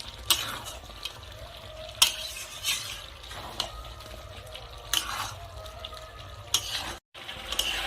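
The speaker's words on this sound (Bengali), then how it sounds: "এখন আমি এভাবে নেড়ে চেড়ে কষাতে থাকবো মাংসের থেকে যতক্ষণ পর্যন্ত না তেলটা ছাড়ে" Desi chicken pieces are stirred and fried in a pan: a spoon scrapes and clinks against the metal in repeated strokes over a low, steady sizzle, with a few sharper knocks.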